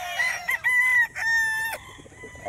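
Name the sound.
stag (young gamefowl rooster) crowing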